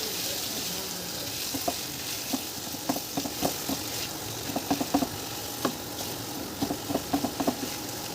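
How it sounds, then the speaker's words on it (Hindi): Finely chopped potatoes fry in a pan for aloo tarkari, making a steady, close sizzle broken by light scraping and clinking from stirring, with no speech. "अब हमें आलूओं को इसके अंदर भूनना है अच्छे तरीके से।"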